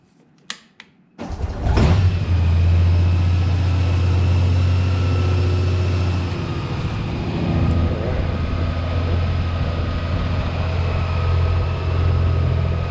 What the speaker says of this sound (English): I'll turn on the bike.